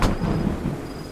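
A thunderstorm with rain rolls in the animated horror story's night scene, a dull, rumbling low boom over a steady wash of rain, brief and fairly loud.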